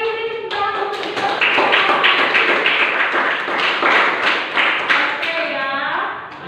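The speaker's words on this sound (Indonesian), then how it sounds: "Sekali lagi beri tepuk tangan untuk kita." A classroom of students claps together in a teacher-led round of applause, with rapid, fairly close hand claps in a steady burst and overlapping voices at the start and end.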